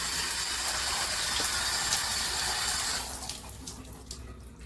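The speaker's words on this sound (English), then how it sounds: "Now this is just on full. And it's just getting water on the wall." A KAIYING chrome high-pressure handheld shower head sprays on full against a bathroom wall, a loud steady hiss of water that drops off and turns patchy partway through.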